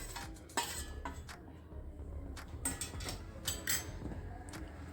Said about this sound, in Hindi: इन दोनों को आपस में मिला करके एक कटोरी में डाल देंगे।